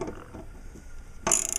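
A bolt holding a lawnmower blade is tightened by hand: soft faint handling noises, then a sudden brighter burst of quick metallic clicking and rattling near the end.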